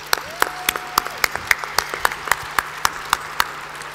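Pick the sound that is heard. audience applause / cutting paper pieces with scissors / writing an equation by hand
audience applause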